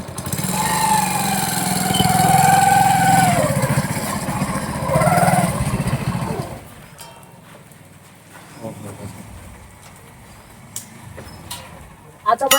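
A motorcycle low on petrol runs loudly and roughly for several seconds, then cuts out, leaving quieter clicks and background noise.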